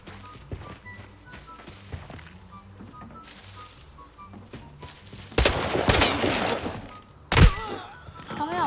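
Sporadic single gunshots give way to dense bursts of automatic fire with an MPX in Arena Breakout, loud and close, interrupted by a heavy thump, while a player talks in Thai.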